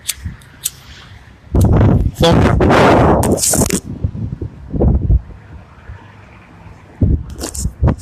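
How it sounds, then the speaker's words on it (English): Heavy gusts buffet a microphone in loud, rumbling bursts, with a person talking intermittently through and between the blasts. "it's windy as hell"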